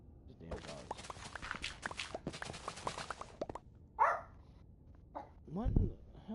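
Dogs bark from inside a Minecraft base-building game, a few sharp yelps and woofs scattered among in-game footsteps and clatter, moderately loud, without talk over them.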